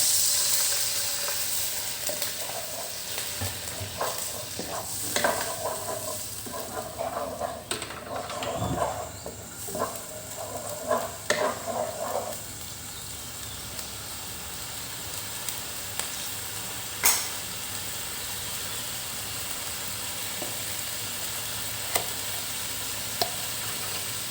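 Thai curry paste being stir-fried in a pan, a steady sizzling hiss with a burst of scraping and clattering stirs in the first half, then a quieter, even fry with occasional clicks.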